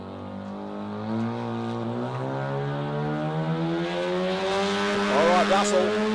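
A Mazda RX-4 Coupe drag car at an Australian sports compact drag racing event makes a sustained engine drone that rises steadily in pitch, building louder toward the end of a solo pass.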